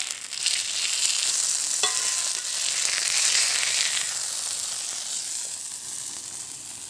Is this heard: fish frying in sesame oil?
yes